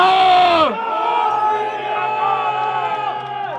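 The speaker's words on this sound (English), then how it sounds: "the Sikh initiation of war chant is just for Priti Patel so she can remember Balai Sonia" A rally crowd in Birmingham shouts a Sikh war chant, a loud massed roar of voices that swells, breaks off abruptly and carries on as sustained collective cries.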